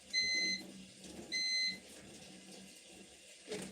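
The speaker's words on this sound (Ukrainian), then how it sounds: "Та що ж ти пікаєш?" A kitchen appliance beeps twice in short, loud, tonal bursts with a gap between them, while water runs from a tap and dishes clatter quietly in the background.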